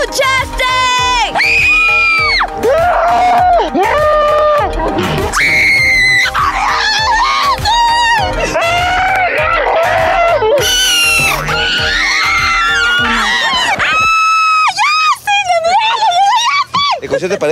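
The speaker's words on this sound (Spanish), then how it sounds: "Oye, Gustavo, la gente está gritando por mí." A crowd screams and whoops excitedly, loud overlapping high-pitched shrieks and yells rising and falling continuously, with a brief drop near the end before more solo shrieks.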